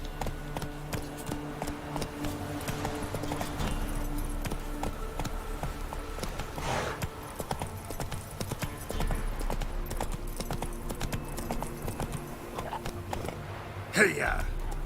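Roach the horse galloping in The Witcher 3 Wild Hunt on Xbox Series S, rapid rhythmic hoofbeats running steadily under occasional speech, with a sharp burst near the end.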